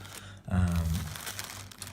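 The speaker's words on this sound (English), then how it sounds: "that's a plastic that keeps it safe from being dirty" A plastic bag wrapped around a Nike Western Sydney Wanderers 2017/18 home jersey crinkles up close, one loud handling burst followed by softer scattered rustles.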